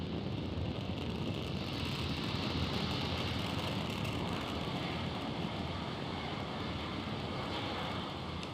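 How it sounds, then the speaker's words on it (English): A SpaceX Falcon 9 lifts off from Space Launch Complex 40 carrying the Türksat 6A satellite, heard as a faint, continuous broadband roar that holds steady for several seconds, distant and without talk. "we have a successful liftoff. Falcon 9 has cleared the tower."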